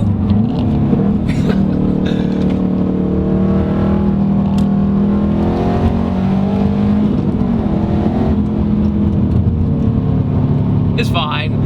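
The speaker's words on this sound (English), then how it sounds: "Going through the forest in my Subaru." A 2006 Subaru STI driving through a forest, heard from inside as a steady, loud engine drone with shifting revs, and a person talking over it throughout.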